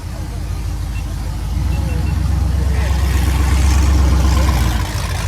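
A 1973 Cuda's engine idles at an outdoor street machine show, a low steady rumble that swells slightly midway, heard up close with some crowd noise around it.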